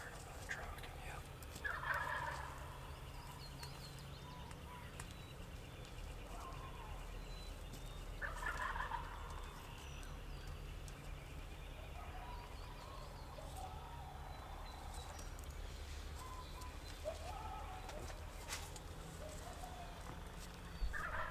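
A wild turkey gobbles several times at a distance during a spring bowhunt in Iowa, the calls ringing out in separate bursts over a steady outdoor background near a truck.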